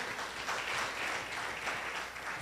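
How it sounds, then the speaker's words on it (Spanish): A congregation applauds at a Spanish-language Bible study in church: a steady, dense wash of clapping that fills the whole stretch at even loudness with no voices on top. "Denle un fuerte aplauso a nuestro Dios."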